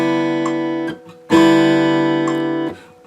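Acoustic guitar plays a chord-and-pluck exercise as two sustained strummed chords, each ringing for over a second with clear harmonics, separated by a short gap.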